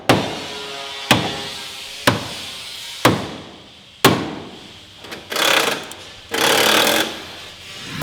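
Five sharp metallic hammer strikes about a second apart on a Nissan car, each ringing briefly, followed by a couple of longer scraping, rattling noises.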